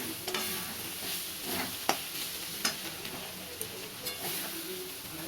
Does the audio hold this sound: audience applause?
no